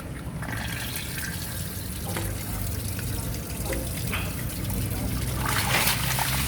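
Steady rushing and trickling water pours out continuously as a fishpond is drained, fairly close, with a constant broadband wash and no voices.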